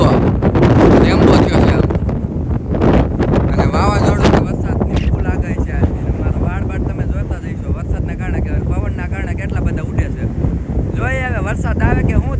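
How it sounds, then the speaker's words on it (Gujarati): Strong outdoor wind buffets the microphone in a continuous loud roar, with a voice speaking faintly underneath the gusts. "પવન બહુ છે, મારો અવાજ આવતો જાય છે તમને"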